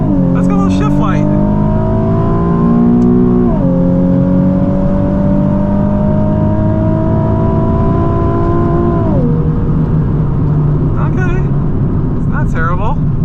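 Nissan 370Z Nismo accelerating hard in first gear, a loud engine whose droning pitch climbs steadily, dips briefly around a shift, then climbs again before easing off, with brief voices near the start and end.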